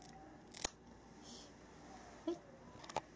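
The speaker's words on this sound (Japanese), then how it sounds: "はい、髪の毛切ってます。" Scissors snipping through fairly long hair at close range, a few sharp crisp clicks spaced irregularly over a quiet room background.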